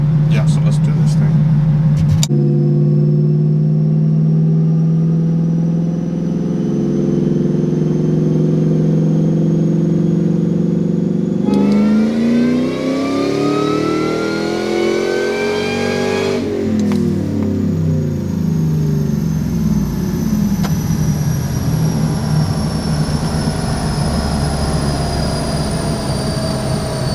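A turbocharged car making about 367 horsepower on a tuning dyno gives a loud, steady engine drone that climbs in a rising rev sweep partway through, then settles into a sustained roar.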